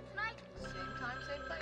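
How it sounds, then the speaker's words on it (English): A telephone rings in a Halloween horror video game, an electronic ring fairly quiet under someone talking over it. "let's answer the damn phone"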